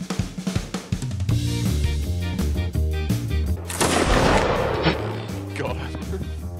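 Musket volleys in a Napoleonic-era video game battle: a swelling crackle of massed fire rises over an orchestral score and rumbling battlefield din, then fades back into the music.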